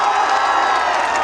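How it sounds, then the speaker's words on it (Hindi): Dense crowd noise from a live stage show audience in Hyderabad, a broad wash of cheering and applause with scattered whoops, steady and loud throughout the short burst. "इस पिता के लिए एक जोरदार ताली बजाइए।"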